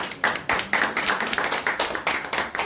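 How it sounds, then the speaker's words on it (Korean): An audience at a talk claps in quick, steady, rhythmic bursts, moderately loud with no voices over it. "박수 한번 주세요."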